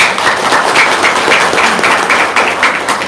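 An audience claps together, a short, moderately loud burst of rhythmic clapping that stays even for a few seconds with no voices over it.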